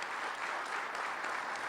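An audience at an anniversary celebration claps for a priest marking sixty years, giving a brief burst of dense applause that holds steady and fairly soft from start to end.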